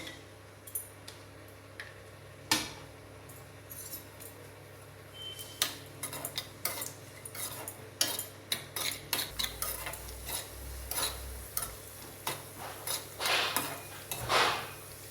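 Cashews fry in a pan for pongal, heard as a quiet, soft sizzle under repeated light clinks and scrapes of a spoon stirring against the pan.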